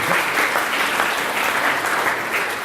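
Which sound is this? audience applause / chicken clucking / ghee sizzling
audience applause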